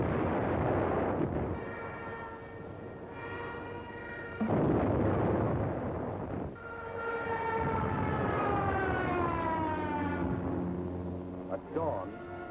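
An air raid siren wails in rising and falling tones over rumbling explosions from German bombing, with narration running over it, all carrying the thin, muffled sound of archival wartime film.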